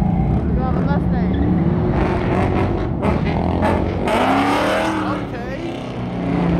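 Ford Mustang driving past at a street gathering, with a loud engine roar rising and fading among other cars. People talk and shout over the traffic noise.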